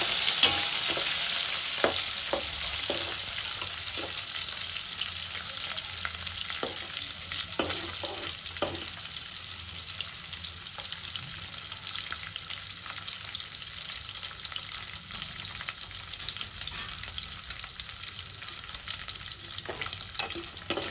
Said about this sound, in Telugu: ఇప్పుడు మనం నెత్తల్లో వేపుకుందాం.